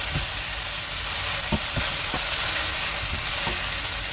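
Sabudana khichdi frying in a pan, with a loud, steady sizzle throughout and a few soft thumps and scrapes as a spoon stirs it, no voices.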